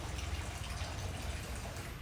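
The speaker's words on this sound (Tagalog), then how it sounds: "I love to wash dishes. Lalong-lalo na pag madaming tubig." Running tap water while dishes are washed at home, a steady faint splashing gush with no talk over it.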